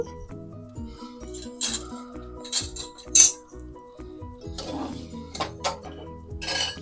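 A spoon scrapes and clinks against a pan while rusk halwa with melting sugar is stirred over low heat, in irregular close taps and rattles over faint background music.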